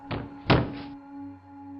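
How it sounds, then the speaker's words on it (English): A horror story sound effect of a thud and a bump near a back door: two muffled knocking thumps in quick succession, the second heavier, followed by a low lingering hum. "I heard a thud and a bump come from downstairs near the back door"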